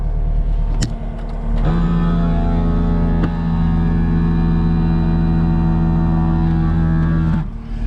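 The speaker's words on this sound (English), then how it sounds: "I'll put some air in the seat" An air seat inflates inside the cab of a 2018 Cat 257D skid steer, a steady pump hum running for about six seconds with a brief click at the start and end, close and fairly loud.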